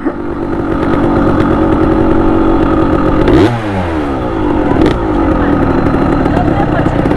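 A 200cc two-stroke motorcycle engine revs hard and continuously up close, with rising and falling pitch sweeps as it shifts gears, racing against a larger four-cylinder bike.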